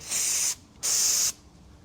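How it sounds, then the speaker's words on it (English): Mass airflow sensor cleaner sprayed onto the sensor of a 6.7 Powerstroke intake, two short hissing aerosol bursts close by, separated by a brief pause. "just go ahead and take the sensor, mass airflow sensor cleaner"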